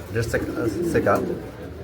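A pair of Mondian pigeons coo in low, soft bursts nearby, heard briefly with a voice in the background.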